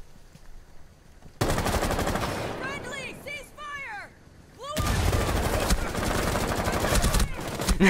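Rapid automatic gunfire in a video game, where a teammate is shot by friendly fire: two long, loud bursts with a short lull between them, and excited voices talking in that gap.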